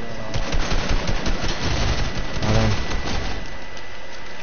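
Continuous video game gunfire rattles through the whole stretch, dense overlapping shots from multiple weapons in a busy firefight, loud and steady with no talk.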